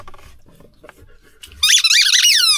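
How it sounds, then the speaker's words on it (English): A squeaky ball dog toy squeaks in a rapid burst of high, rubbery squeals near the end, loud and close after quieter rustling. "She likes the squeaky balls."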